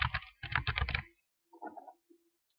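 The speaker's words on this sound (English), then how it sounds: "you type years and deposit and balance" Clacking keys on a computer keyboard as entries go into an Excel spreadsheet, a dense burst of quick strokes followed by a pause and a few softer taps, close and alone.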